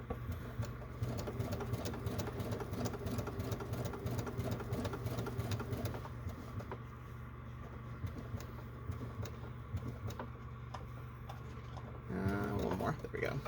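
A sewing machine stitches a fabric clutch in a steady fast mechanical rhythm, running continuously up close with brief pauses near the end as the piece is turned.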